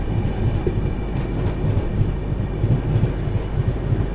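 Passenger train running on the line between Goa and Belagavi, heard as a steady, loud rolling rumble of wheels on track with rhythmic clickety-clack throughout, continuous and close, with no talk.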